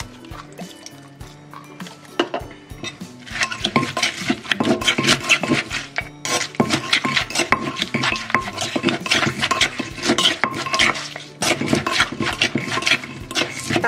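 Food is pounded quickly in a mortar, with rapid, close, repeated thuds and wet squelching clatter that build after a quieter start and continue without talk.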